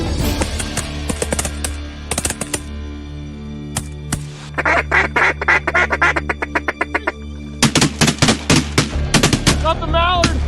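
Shotguns fire during a mallard duck hunt, loud repeated blasts in bursts mixed with quacking ducks and a duck call, with brief voices among the shots.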